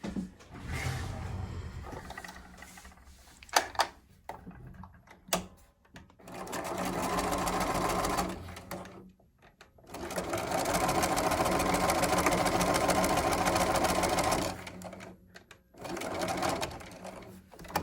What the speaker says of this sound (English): We're going to actually sew right down this line here.